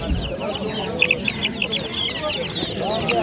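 Chickens cluck and squawk in a busy poultry bazaar in Namangan, with repeated short calls overlapping against a dense murmur of market noise and faint voices.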